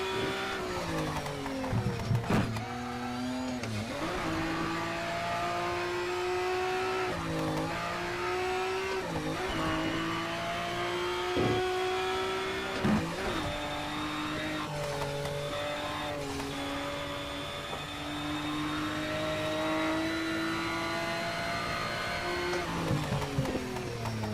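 Race car engine in the racing game Shift 2 Unleashed revving hard and accelerating through repeated gear changes, a loud continuous howl that climbs in pitch and drops at each shift, with no talk over it.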